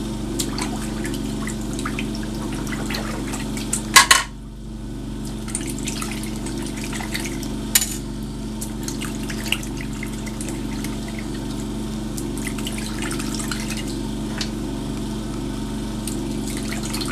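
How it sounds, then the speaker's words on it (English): Small pistol parts dipped and rinsed one at a time in a basin of water, giving soft, faint sloshing and trickling over a steady background hum, with a couple of sharper clinks near the start. "all I'm doing is placing each item in water to rinse it off"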